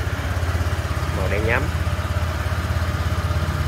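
A Honda AB scooter engine idles steadily with an even, low putter throughout, while someone speaks briefly over it midway.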